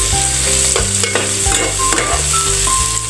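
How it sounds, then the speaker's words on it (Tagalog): Tomatoes sizzling in oil in a pan for adobong pusit, a loud continuous hiss and crackle with scraping and stirring strokes over it, close up and no voices. "lalambutin lang po natin yung ating kamatis hanggang sa lumabas yung katas niya"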